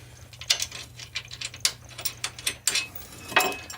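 Ratchet wrench tightening a nylon lock nut onto a bolt through a rear bumper bracket on a Jeep TJ, rapid, close, irregular clicking over a low steady hum.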